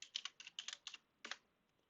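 Quick bursts of typing on a computer keyboard, a cluster of crisp key clicks followed by a pause and a final pair of taps, close and quiet with no talk.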